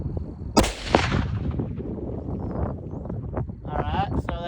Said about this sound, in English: so that first shot was to the left, down a little bit